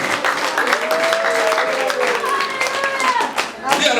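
A church congregation breaks into applause, a dense, steady clapping crowd that carries on for several seconds with a preacher's voice speaking over it.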